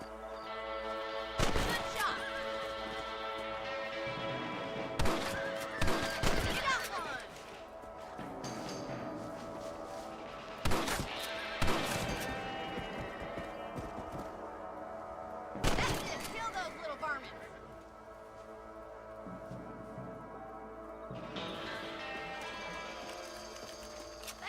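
Horses in the Red Dead Redemption video game clip-clop along as several sharp bursts and whinnies punctuate a low ambient bed of western game sound, with character voices speaking at times.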